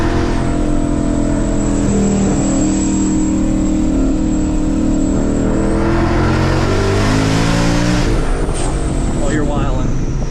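A Chevrolet Corvette C6 ZR1 engine roars very loudly up close, climbing and falling through several hard revs, with people talking and exclaiming over the noise.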